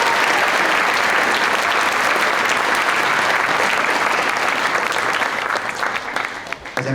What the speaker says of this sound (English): So let's give a round of applause to the MCs today